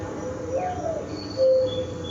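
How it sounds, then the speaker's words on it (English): A mourning dove in a rural countryside setting gives soft, low cooing notes, a short mellow phrase followed by a steadier held coo, faint against a quiet outdoor background with light insect-like hiss. "And then to your right is a mourning dove."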